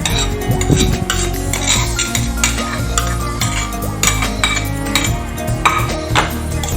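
Crunchy vegetable salad is mixed in a bowl, with repeated close scraping, stirring and utensil clinks against the dish. The sounds come in a steady, busy rhythm with no voices.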